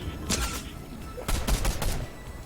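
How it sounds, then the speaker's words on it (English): Video game gunfire: several sharp bursts of shots, spread irregularly across a dense, noisy game soundscape with no talk. "I'm getting shot at from dis"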